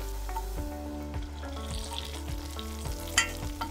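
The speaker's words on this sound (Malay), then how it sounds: "tuang masuk semua bahan tumisan dalam periuk kari dal. Kena waktu panas-panas lagi ya, biar berdesir bunyi" Hot fried spices, onion and dried chili, are poured into a pot of dal curry, raising a loud continuous sizzle with repeated clanks and scrapes of a utensil stirring, no voices.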